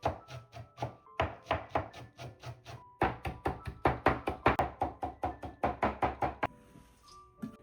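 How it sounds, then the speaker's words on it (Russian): A knife chops fresh herbs rapidly and rhythmically on a cutting board, a fast series of close, crisp knocks with a few brief pauses. "Сначала нарезаем, а потом рубим. Ножом, либо топориком."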